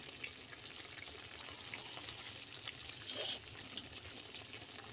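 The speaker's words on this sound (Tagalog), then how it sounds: "lagyan ko pa ng tubig" Water poured into a simmering chicken steak sauce in a home kitchen, a steady soft gushing splash with a brief louder surge near the end, alone without talk.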